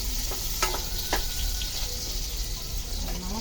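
Garlic and onion sautéing in a pan for pinakbet give a steady sizzle with a few sharp clinks and scrapes of stirring, fairly close and with no talk.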